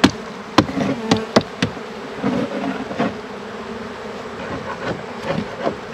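Honey bees buzz loudly and continuously around hive frames at an apiary during a honey harvest, with a dense, close drone and a few sharp knocks from handling the frames.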